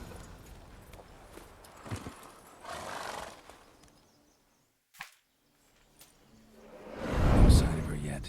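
Geralt's horse Roach in The Witcher 3 video game, soft hoof clops and a short snort, then a loud whinnying neigh building near the end, with spoken lines heard in between.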